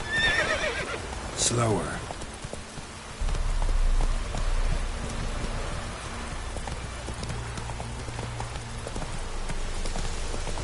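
Roach the horse in The Witcher 3 clip-clops at a steady walking rhythm, with a whinny near the start, over low rumbling ambience; someone speaks briefly.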